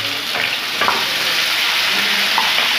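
Onions and tomatoes go into a hot pan for chowmein, giving a steady close sizzle of frying with a few soft scrapes of stirring throughout, and no talking.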